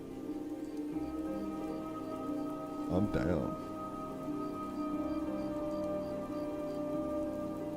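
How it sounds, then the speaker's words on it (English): Recorded rain sounds play as a steady, even hiss of falling rain throughout. Someone speaks briefly over it. "10-hour rain sounds?"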